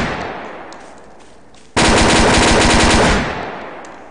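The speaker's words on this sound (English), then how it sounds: "I got a Tommy gun." In the video game Garry's Mod, a Tommy gun fires a loud, close, rapid automatic burst lasting over a second, following quieter background game noise, with no talking.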